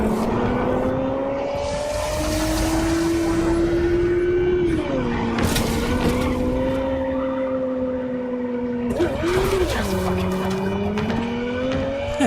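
Video-game motorcycle engine in Cyberpunk 2077, a steady loud drone with pitch shifts as the bike accelerates and slows, broken by two bursts of noisy skidding, one near the middle and another toward the end.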